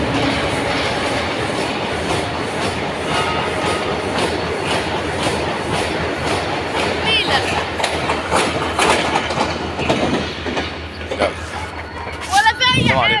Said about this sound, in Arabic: قطر التلج اهوت بيخزن ليه قطار مرسى مطروح، ودخول التلج اهو زي ما احنا شايفين بسرعته كلها